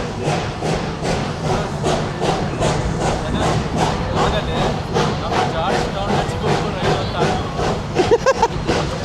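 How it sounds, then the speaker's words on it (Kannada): Old railroad train engine running at Georgetown, Colorado, giving steady rhythmic chugging and clanking throughout, with thumps near the end and a busy crowd in the background. "ಹಳೇ ಕಾಲದ ಮಿಷಿನ್ ಸೌಂಡ್ ಬರುತ್ತಲ್ಲ ಟ್ರೈನ್ ಹಂಗೆ ಇತ್ತು ಅಲ್ಲಿ"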